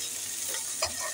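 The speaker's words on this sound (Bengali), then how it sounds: "এবার আমি পটল ভাজা হয়ে গেছে, এবার আমি পটলগুলোকে সমস্ত তুলে ফেলবো।" Pieces of pointed gourd (potol) frying in a little oil in a pan and being stirred, with a soft sizzle and a brief clink of the utensil, heard up close.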